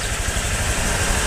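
A Honda Click scooter engine idles steadily while warming up in the morning, a loud, close, even rumble with no speech.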